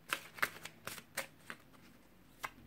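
Tarot cards are shuffled by hand in a quick series of crisp riffling snaps, then a pause and one final flick, close and fairly quiet.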